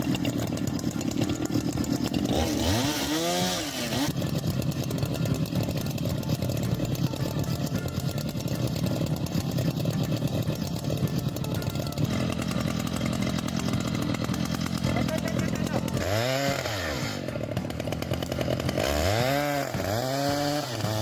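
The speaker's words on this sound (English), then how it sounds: "a worker dons protective gear and wields a chainsaw against a colossal trunk" A chainsaw cuts into a colossal tree trunk during forestry work, roaring loudly and continuously, with several sweeping rev rises and dips as the blade bites and eases off.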